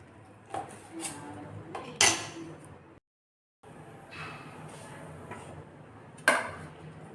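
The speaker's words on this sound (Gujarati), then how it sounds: "પાત્રાને આવી રીતે બધા રોલને કાપી લીધા છે" A knife chops rolled patra, colocasia leaf rolls, on a board. Sharp clacks and metallic clinks come in short bursts, with a brief silent gap midway and a stronger strike near the end.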